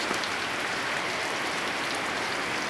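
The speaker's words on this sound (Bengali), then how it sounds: "টিনের চাল দিয়ে বেয়ে পড়ছে বৃষ্টি। ভারী বর্ষণ হচ্ছে" Heavy rain streams off a tin roof on a village night, a loud, dense and steady wash of water with no break and no voices.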